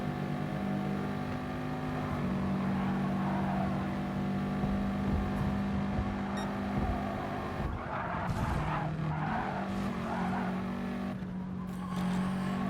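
A race car engine drones steadily through a racing game lap on Tokyo East Inner Loop, then briefly scrapes and thumps as the car skids and bounces off the wall before the engine note settles again.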